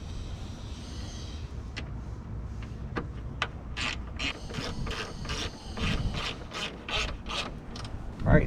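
Ratchet tightening a hood damper bracket bolt on a Mitsubishi Lancer EVO X, with sparse clicks at first and then a steady run of close ratcheting strokes over quiet background noise, with no talking.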